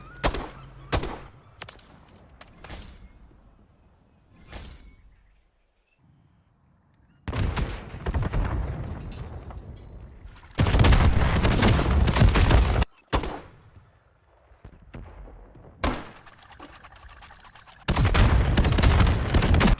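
Spawn tubes fired in Modern Warfare III on the Vista map burst out as a series of loud booming, crackling blasts between quieter thuds and gaps, close and unaccompanied by talk.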